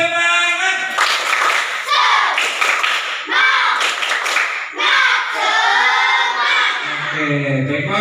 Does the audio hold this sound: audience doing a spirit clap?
yes